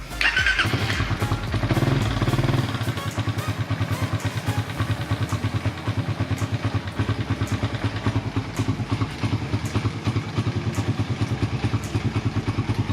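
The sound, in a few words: Raider 150 Fi motorcycle engine started and running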